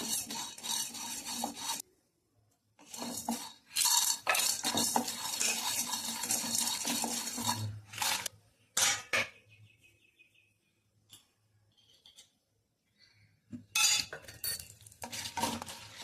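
Lentils tipped into a pan and stirred with a metal spoon for moringa leaf chutney, giving bursts of scraping and clinking in several separate spells, with quiet gaps and a soft low hum between them.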